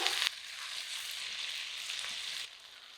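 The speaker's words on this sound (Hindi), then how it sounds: "तो तलने के लिए मैंने पैन में थोड़ा ऑयल डाला है, तेल तेज गर्म हो गए हैं।" Cauliflower snack pieces fry in hot oil in a pan over low to medium flame, a steady soft sizzle with a brief louder burst at the start, no talk.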